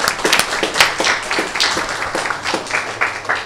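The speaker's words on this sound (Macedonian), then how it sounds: "Еден аплауз за професорот." Audience applause honoring a professor at an art colony event, a dense, steady patter of many hands clapping close and loud for several seconds.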